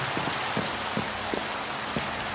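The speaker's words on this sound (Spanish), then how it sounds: "Se pone a llover" Rain falls in Minecraft as a steady, soft hiss of drops with faint patters scattered through it and no voices.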